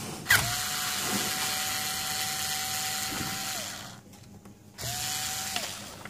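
A power screwdriver backs screws out of the fuser block of a Canon imageRUNNER Advance C7260/70 copier: two whirring runs of the driver with a ratcheting click at the start, a brief quiet gap between, close and moderately quiet.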